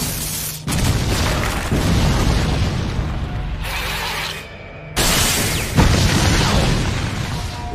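Loud, heavy explosions in an anime fight, with sustained roaring blasts broken by abrupt cuts and fresh booming bursts, close and dominant with no talk.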